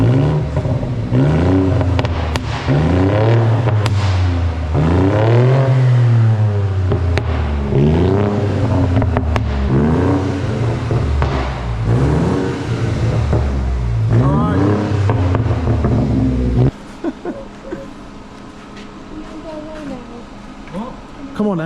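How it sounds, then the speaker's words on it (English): A BMW 218i with the 1.5 B38 engine and tuned exhaust revs repeatedly in rising and falling sweeps, loud and close, then drops to a steady idle; people talk over it. "Give it a rev then, Josh."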